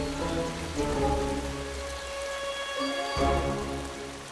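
Steady rain falls on plants and foliage, a dense continuous patter with scattered drips, heard close and alone without any voices.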